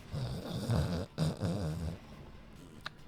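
A person imitates snoring with a voice, producing rough, rumbling, gravelly snore sounds in two long bursts, then trailing into quiet with a small click at the end.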